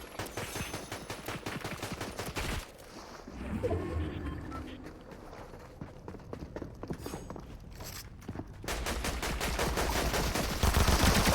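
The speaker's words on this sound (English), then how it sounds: "someone else is shooting." Rapid gunfire from another player in Fortnite rattles in fast repeated bursts, dense at the start and again in the last few seconds, with a quieter stretch of game sounds and movement between the volleys.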